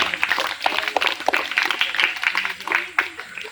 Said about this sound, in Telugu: ఒకసారి అందరూ ఆయనకి చప్పట్లు కొట్టండి గట్టిగా కొట్టండి ఇంకా గట్టిగా